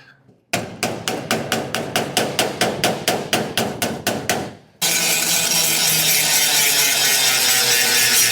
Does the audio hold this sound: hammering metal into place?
yes